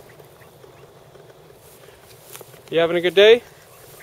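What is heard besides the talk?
ducks quacking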